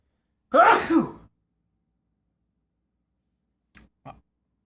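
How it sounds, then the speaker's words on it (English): One loud, close sneeze bursts out, followed after a long pause by two short, quieter sniffs or follow-up sneezes. "I'm gonna sneeze."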